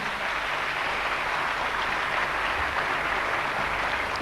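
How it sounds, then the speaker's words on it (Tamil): Sustained applause from an audience at a Tamil-language recognition event, dense steady clapping filling the whole stretch at an even level with no voices over it. "அவங்களுக்குலாம் மீண்டும் ஒரு பெரிய பாராட்டு கொடுத்துருங்க"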